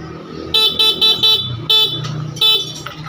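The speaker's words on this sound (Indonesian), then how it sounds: "ini untuk klakson sudah hidup," Close, loud bursts from a Vespa Zip scooter horn, with several short honks and longer toots in an uneven pattern over a low idling hum.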